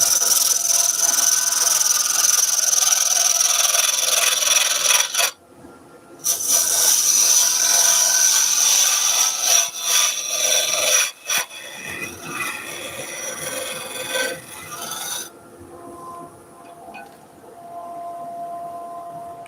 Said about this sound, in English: So I'm just going to use this square scraper again.